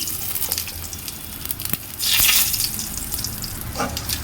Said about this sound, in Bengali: শুকনো লঙ্কা তেজপাতা ফোড়ন দিলাম